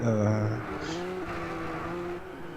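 Engines of 550-horsepower GT race cars in a racing video game, a loud continuous roar with shifting pitch as the cars accelerate through a corner, with a brief tire squeal early on.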